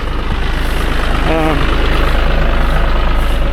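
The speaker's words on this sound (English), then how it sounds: "this tractor's just got so much more power than the little open station tractor" A tractor engine's steady, low drone runs throughout during hay work, close by and constant, with a faint tonal whine briefly rising above it.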